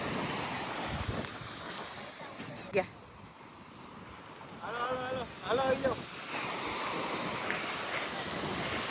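Sea waves at a seashore roll in a steady broadband wash with heavy wind buffeting the microphone, while people nearby talk and call out over the surf.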